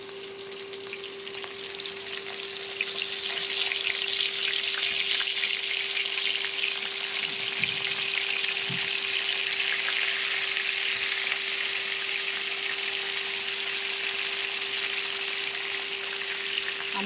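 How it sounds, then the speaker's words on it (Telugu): Stuffed brinjals (gutti vankaya) frying in hot oil give a loud, steady, continuous sizzle that swells after the first couple of seconds and holds throughout, with no voices. "స్టఫ్ చేసుకున్న వంకాయలు ఉన్నాయి కదండి, వీటిని ఆయిల్లో"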